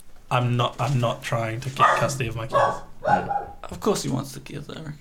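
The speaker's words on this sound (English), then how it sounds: "Sorry about the barking." A dog barks repeatedly in the background, with sharp yaps mixed under a continuous conversation between people talking indoors.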